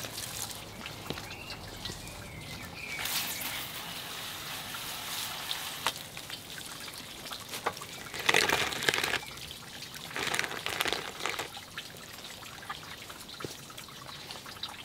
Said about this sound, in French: Une partie de l'eau va s'en aller, et puis l'autre partie va rester et va traverser le pot.